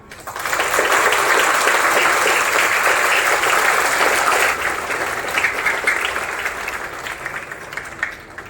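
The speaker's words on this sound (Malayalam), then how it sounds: "മാക്സിമം ശബ്ദത്തിൽ ഒന്ന് കൈയടിക്കണം" A school audience claps loudly for teaching and non-teaching staff at the blessing of a KG block, a dense burst of many hands that swells quickly, holds, then slowly thins out.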